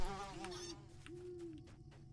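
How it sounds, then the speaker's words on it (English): Buzzing insects in the Lord of the Rings Online video game, a quiet, steady drone with two longer swelling tones while bees are sought in the Beorning lands; soft and continuous throughout. "I just have to find and feed bees."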